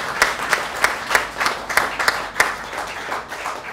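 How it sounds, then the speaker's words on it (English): Guests at a fundraiser dinner clap in a small, moderately close round of applause, with individual sharp claps standing out in a loose, fairly regular rhythm before the clapping thins. "put around applause right there"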